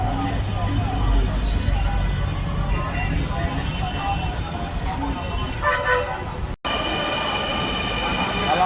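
A Dhaka metro rail train in motion, its steady low rumble and wheel noise filling the carriage, with faint passenger voices beneath and a brief cut near the end.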